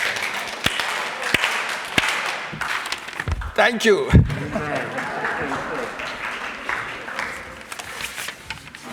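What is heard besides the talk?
audience clapping hands four times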